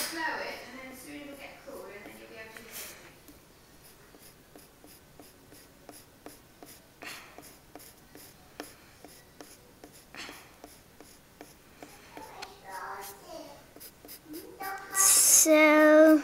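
Pencil scratching steadily across paper while sketching a dragon's neck, with short strokes and longer sweeps, close and fairly quiet, under intermittent talking.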